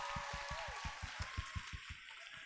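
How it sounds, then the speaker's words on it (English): Applause for a choir council at a summer sing event: about a dozen sharp, evenly spaced claps from nearby hands, quite quiet, with a faint tone and some background murmur at the start. "So one more round of applause and thank you to our incredible choir council."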